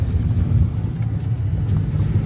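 A car's engine drones low and steady while the car drifts and slides, with a constant loud rumble and no clear revving peaks.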